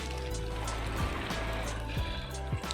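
Steady rain falling along the mountain trail to Pindari Glacier in cold, hail-prone conditions, a continuous close wash of water with a few faint knocks, no talking.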